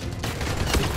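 Enemy gunfire in Dying Light, a loud, dense burst of overlapping shots with a sharp crack near the end, close and chaotic.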